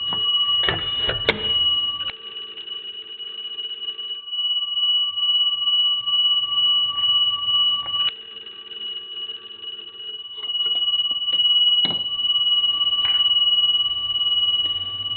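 Bell of a vintage Kellogg wall telephone ringing loudly in long sustained bursts, cut off and restarted as the bell is switched off and back on, with clicks and handling knocks between rings.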